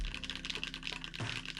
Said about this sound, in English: I guess I could finish this off with another typing sounds.